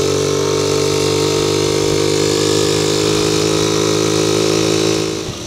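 An air-cooled motorcycle engine idles steadily and close by in heavy traffic, a constant throbbing hum that carries on unchanged for several seconds before easing slightly at the end.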